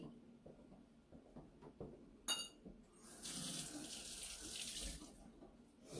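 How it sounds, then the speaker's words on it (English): A kitchen tap turns on and runs as hands are rinsed after mixing sticky fried apple pie dough, preceded by soft handling clicks and a knock, then a steady close hiss of water. "while I'm rinsing my hands off"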